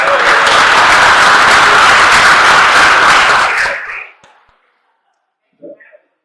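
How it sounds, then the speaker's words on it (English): Town hall audience with a sheriff, applauding themselves: loud, dense crowd clapping for about four seconds, then fading to silence, followed by a brief faint voice. "So give yourselves a round of applause"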